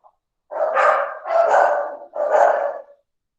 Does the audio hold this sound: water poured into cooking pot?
no